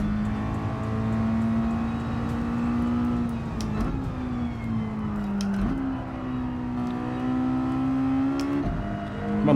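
Mazda Miata racing engine in Gran Turismo 7, a steady high-pitched drone holding near constant with brief dips and climbs at gear changes, loud and continuous throughout.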